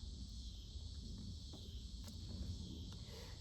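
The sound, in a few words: crickets and cicadas chirping outdoors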